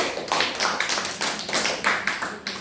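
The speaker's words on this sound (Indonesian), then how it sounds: "Kasih aplaus pada Sylvia" A classroom group applauds a student with a short burst of brisk, close hand clapping, many quick overlapping claps lasting under three seconds.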